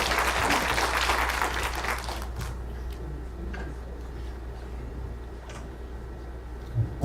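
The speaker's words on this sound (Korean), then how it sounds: "큰 박수로 맞아주십시오." An audience at a presentation on IoT city projects applauds a presenter, with dense clapping at first that fades over several seconds into scattered claps.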